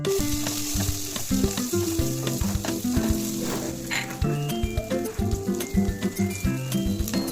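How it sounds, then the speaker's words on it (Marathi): Onion and whole spices frying in hot oil while cooking fanas bhaji, a steady crackling sizzle with repeated clinks and scrapes of a spoon stirring in the pan, close and continuous. "त्यातच थोडं तेल टाकून कांदा, खडे मसाले टाकून चांगलं फ्राय करून घेऊया"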